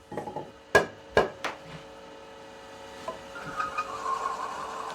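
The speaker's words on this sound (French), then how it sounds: "on fabrique la petite branche d'un basson baroque. C'est la perce intérieure qui tourne là." A wood lathe cuts the inner bore of a small branch for a baroque bassoon. Two sharp knocks near the start sit over a steady machine hum, then a rising scraping whine and grinding of the turning wood.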